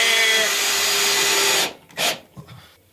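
Screw gun driving into drywall, a loud high-pitched motor whine held steady for over a second, then cutting off, followed by a short second burst and a faint thud.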